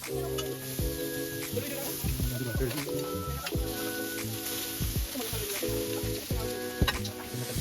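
Ribeye beef strips sizzling on a Blackstone griddle, a steady loud hiss with scraping spatula stirs and clacks throughout, while people talk over the cooking.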